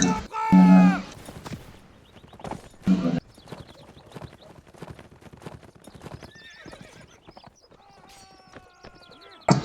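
Horses in the video game Mount & Blade: Warband gallop with rapid clip-clop hoofbeats and loud neighs near the start, then steady hooves continue under background battle noise.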